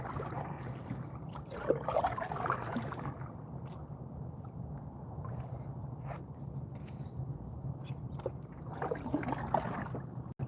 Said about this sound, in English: I'm paddling through here